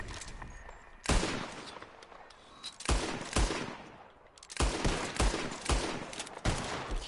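Gunfire in the Red Dead Redemption video game: repeated loud gunshots in irregular bursts, several volleys spread across the stretch with short gaps between them.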